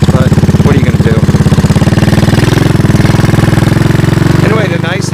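A 1983 Honda ATC200 three-wheeler sits idling close by, its single-cylinder engine putting out a steady, loud, low chugging throb that holds even for five seconds, while a voice talks over it.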